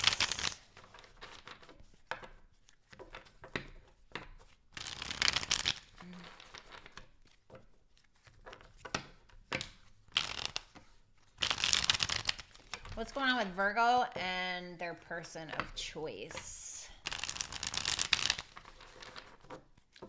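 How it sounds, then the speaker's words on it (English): Tarot cards are shuffled by hand in a few brisk, papery bursts, mixed in with someone talking close by. "2 more shuffles."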